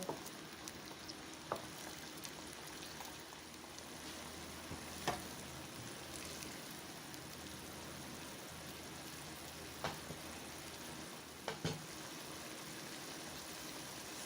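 Escabeche sauce simmering in a pan with carrots, a steady close bubbling and sizzling hiss with a few faint clinks of utensils, no voices.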